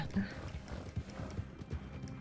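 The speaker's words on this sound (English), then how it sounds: "Keep going with your horse." Horse hooves in Red Dead Redemption 2 clip-clop in a quick, steady galloping rhythm, fairly faint, with people talking over them.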